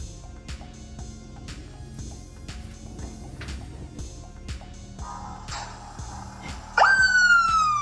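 A police siren wails in a video game, rising and falling behind a rhythmic clicking pattern, then turning loud and close near the end as a bright sweeping tone, with no speech.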